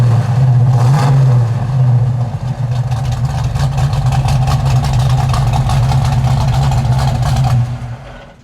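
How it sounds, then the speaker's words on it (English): A 1972 Plymouth Cuda with a cammed 340 V8 idles at the rear exhaust, throwing out a loud, steady, lopey low rumble that swells briefly and then tapers off at the end. "You can just hear that rumble of that cam on that 340."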